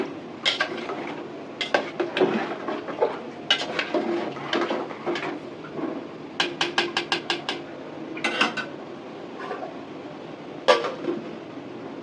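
Bottle gourd cooking with rohu fish head in a pot, heard as repeated clinks and scrapes of a metal spoon against the pot over a steady sizzling background, with irregular clusters of sharp taps throughout.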